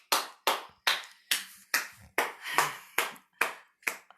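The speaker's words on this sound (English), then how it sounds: "That's a round of applause." A single person claps alone in a quiet room, about ten sharp, evenly spaced claps, close and distinct.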